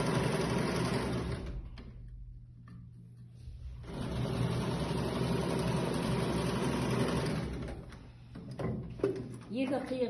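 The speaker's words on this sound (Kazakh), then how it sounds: "бөлшектің екі қиығын зигзаг тігісімен өңдеп аламыз" A sewing machine runs zigzag stitches along the edges of a fabric piece, with a loud, steady mechanical whirr in two long runs separated by a short pause, and a voice speaking briefly near the end.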